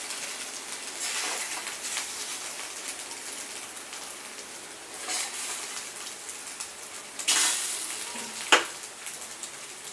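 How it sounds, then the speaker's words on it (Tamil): Chapathi pieces and egg fry together in a pan for an egg chapathi dish, a steady sizzle with a few louder stirring scrapes and clanks, no talk. "இந்த டைமில் சப்பாத்தியையும் எக்கையும் ஆட் பண்ணி நல்லா கிண்டுங்க."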